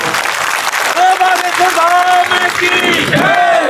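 A crowd at a Sundar Kand religious gathering applauds vigorously while voices shout and cheer over the clapping.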